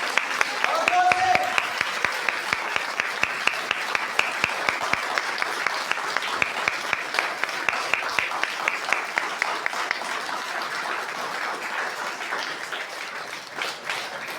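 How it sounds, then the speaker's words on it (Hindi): Church congregation applauding loudly in worship, a long sustained roar of clapping with some rhythmic unison beats, voices faintly mixed in beneath. "जोर से ताली बजाइए परमेश्वर के लिए और जोर से"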